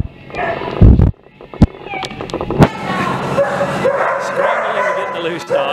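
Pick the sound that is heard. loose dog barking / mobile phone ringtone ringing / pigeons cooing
loose dog barking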